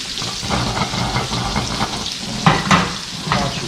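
Yellowfin tuna steaks sizzle loudly in a hot pan, a constant close frying hiss with a few sharper crackles and scrapes partway through, no voices.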